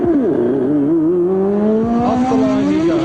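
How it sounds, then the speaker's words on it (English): Nelson Piquet's 1983 Formula One car is push-started and pulls away, its engine note rising in strong, loud revs that climb steadily, close by. "And there is Nelson Piquet's car being push-started."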